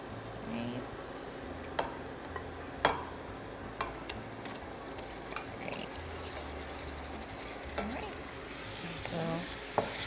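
Pork for Trini geera pork hits a hot pot and frying sizzles softly in the background, with scattered clicks and scrapes of stirring and occasional sharp knocks of the utensil against the pot.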